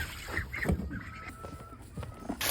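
Ducks being fed on a small farm, with a few short honking quacks in close succession over general movement and background noise.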